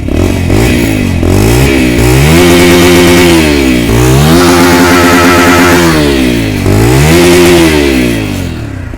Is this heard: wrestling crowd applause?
no